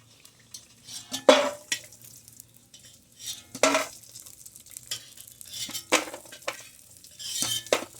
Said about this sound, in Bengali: এবার আমি ভাজবো উচ্ছেটা